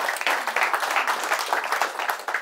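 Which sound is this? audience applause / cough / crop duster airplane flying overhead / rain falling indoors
audience applause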